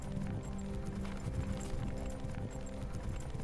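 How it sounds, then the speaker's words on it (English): Horses approach with steady, close clip-clop hoofbeats in the Warcraft III video game, a continuous trotting rhythm at even loudness over a low game soundscape. "Well, there's their horses."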